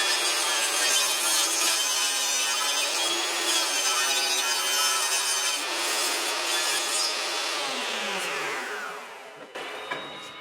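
A power saw with a sled cuts along a wood edge for a chessboard, giving a loud, steady, close whining cut that winds down near the end, followed by a brief clunk.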